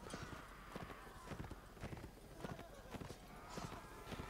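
Horses galloping in a video game battle, rapid rhythmic hoofbeats thudding continuously amid the clash of the fight.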